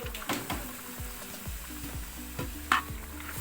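Cooked cassava stirred and mashed into a pork biryani mixture: a soft, rhythmic series of thick, wet stirring thuds and scrapes against the pot over a faint background sizzle, with no talking.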